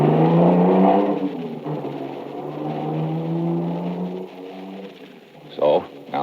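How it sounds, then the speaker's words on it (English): In an old-time radio drama, a car roars off through a village: a loud engine surges up, then a sustained rumbling whir that fades somewhat, partly under a narrator's voice. "They all pile into the car and take off through the village"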